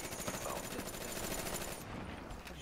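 Rapid automatic gunfire in the video game Black Ops 3 during team deathmatch, a dense rattling burst of shots that runs loud and continuous before tapering off near the end.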